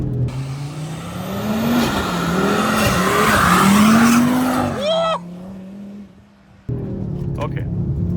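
An Audi RS3 drifts in second gear, its engine roaring steadily while the tires squeal loudly and continuously, then the noise drops off sharply before the engine returns at a lower, even drone.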